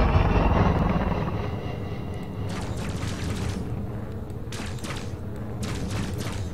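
Spaceship gunfire in the space game Elite Dangerous sounds as three short bursts of harsh blasts over a constant deep engine rumble.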